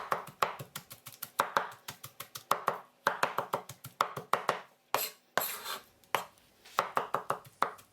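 Rapid, steady knife chopping of prawns on a board, finely minced, sharp rhythmic taps in quick bursts with short pauses between runs, close and clear.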